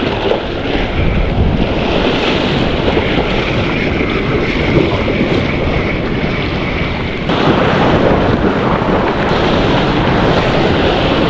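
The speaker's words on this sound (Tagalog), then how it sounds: "Masyado malakas yung alon." Strong ocean waves breaking and surging at the shore during an island outing, a loud continuous roar of surf mixed with heavy wind buffeting the microphone, with no voices.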